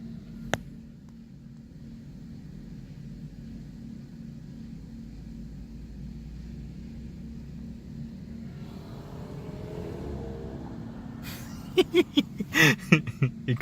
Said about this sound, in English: It's actually a girl driving the Camaro. Let's see if it's actually loud.